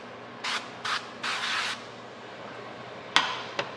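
Cooking spray is sprayed into a pan in three short hissing bursts, the last one longer, followed by two sharp clicks.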